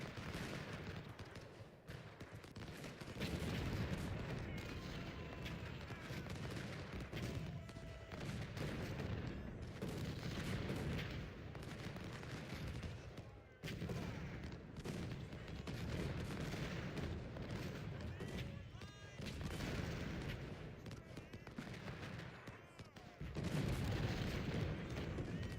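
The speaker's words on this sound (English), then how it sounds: "Concentrated artillery is a hell of a thing, hell of a drug." Massed artillery and rifle fire in Ultimate General: Civil War, a long continuous barrage of booming cannon shots and crackling gunfire rolling on without pause, loud and dense throughout.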